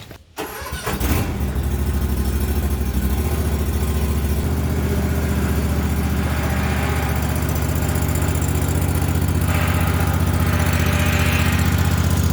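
A Toro TimeCutter 50-inch riding lawn mower engine catches and then runs at a steady, loud, close drone. No one speaks.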